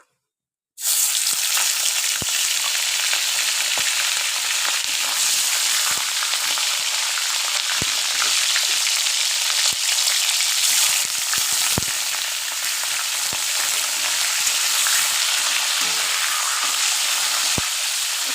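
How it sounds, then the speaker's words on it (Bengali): Chicken pieces hit hot oil for a Bengali chicken curry, a sudden loud sizzle that holds steady and dense for the whole stretch, with a few faint ticks and spatula touches beneath it. "এবার এই তেলেই এই চিকেনটা একটু ভেজে নেব"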